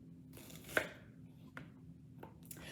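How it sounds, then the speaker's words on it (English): Knife dicing onion on a cutting board, with a few separate sharp chopping strikes spread unevenly across the moment, moderately close and fairly quiet, no voices. "So while I'm dicing the veg"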